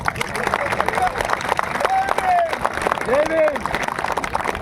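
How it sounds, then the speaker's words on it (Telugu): Audience applause for a wedding couple at a mass wedding ceremony, steady crowd clapping filling the space under a loudly amplified voice and crowd chatter. "ఇప్పుడు చప్పట్లు ఇంకా కొంచెం"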